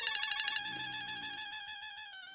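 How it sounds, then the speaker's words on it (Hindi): A mobile phone ringtone chimes in a bright repeating melody that sits clearly in the foreground, moderately loud and steady, with no voices over it. "लो, दीदी का ही फोन आ गया।"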